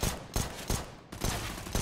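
M4 rifle fire in Counter-Strike on the Dust2 map, loud close shots in a steady rhythm of about five evenly spaced reports with a brief gap midway, no voices over them.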